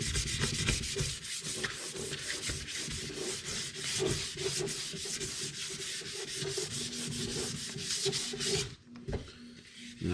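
A wooden axe handle is rubbed down with 600-grit sandpaper in steady, continuous back-and-forth strokes, close and fairly loud, with a brief pause near the end and no talk.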